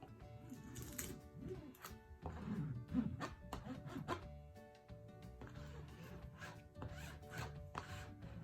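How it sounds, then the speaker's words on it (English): A scraper rubs repeatedly over vinyl letters stuck to a canvas watermelon door hanger board, giving faint, uneven scratchy strokes close to the microphone with no voice. "get your scraper thing and just scrape over the top of the letters again."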